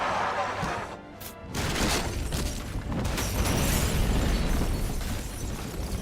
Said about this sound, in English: Sarge gets infected and orders Cooper to take cover so that he can explode the house for his own badass sacrifice.